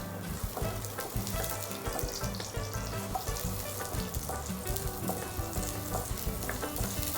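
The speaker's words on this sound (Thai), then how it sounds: "แล้วก็เอาหอมแดงเนี่ยนะคะ ใส่ลงไป เริ่มที่เจียวหอมแดงก่อนค่ะ" Shallots fry in oil in a hot wok for pad Thai at a resort in Bang Lamung, Chonburi, producing a loud, dense, continuous sizzle with stirring clatter throughout, close up and without talk.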